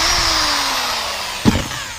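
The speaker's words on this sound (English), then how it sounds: "So I definitely recommend getting a corded drill like this one here, just some random one called Drill Master." A Drill Master corded power drill whirs steadily at close range with a constant high motor whine, briefly bogging or catching near the end, with no talking.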